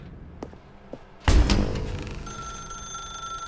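A telephone rings inside the video game The Stanley Parable, a loud burst of bell-like ringing that starts abruptly and decays into a sustained tonal hum, with faint clicks before it.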